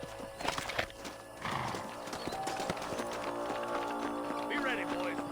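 Horses in the Red Dead Redemption video game clip-clop and whinny near a canyon, with a steady rhythmic hoof beat under game voices and background ambience.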